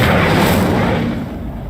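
The Incendio fire spell being cast in Hogwarts Legacy: a loud, full-bodied fiery whoosh and roar that starts at full strength and slowly fades over under two seconds.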